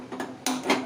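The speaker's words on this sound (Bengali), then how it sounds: "আমি গ্যাসটা ধরিয়ে নিচ্ছি।" A kitchen gas burner is lit under a kadai. Two quick clicks and hissing bursts sound close and moderately loud within a second.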